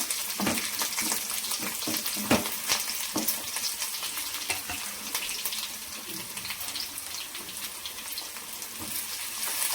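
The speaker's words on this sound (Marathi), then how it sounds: "त्यानंतर 3-4 लसूणच्या पाकळ्या, 2-3 अद्रकचे तुकडे, हे सगळं छान लालसर होईपर्यंत परतून घ्यायचं आहे." Garlic cloves and ginger pieces fry in a pan for Patwadi rassa with a steady broadband sizzle, stirring scrapes and occasional sharp crackles breaking through, fairly close and continuous, no talk.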